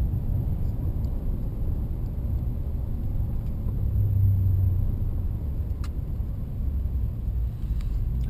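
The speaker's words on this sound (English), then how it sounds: "This is a really fun truck to drive." A Nissan Titan pickup truck on the road gives a steady, loud low rumble of engine and tyre noise from inside the cab, unbroken and without talk.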